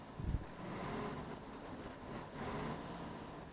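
A Mercedes-Benz O305 city bus with a manual gearbox in OMSI 2 pulls away with a steady, muffled low engine rumble and faint rushing noise, after a short thud at the start.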